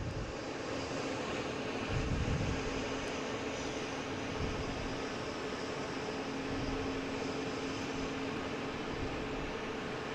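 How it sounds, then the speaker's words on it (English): An Aeromexico airliner passes by, producing a continuous rumbling engine roar with a faint steady tone, a few low swells along the way, sustained at a moderate level for the whole stretch. "And Aeromexico here passing in review."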